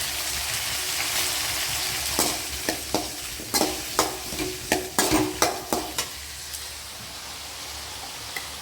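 Onion and dried red chili frying and being stirred in a pan: a steady hiss with a run of sharp scraping stirs and crackles in the middle, close and fairly loud, no voices.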